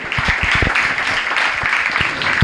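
Loud, sustained applause from a crowd at a school scholarship ceremony, dense clapping with a few sharper nearby claps standing out, running the whole time without pause.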